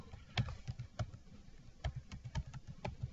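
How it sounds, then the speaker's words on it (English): A folder name being typed on a computer keyboard: quick, light, uneven keystrokes close by, around a dozen taps in a few seconds, with no voices. "So I type in Nutrition and click on Save"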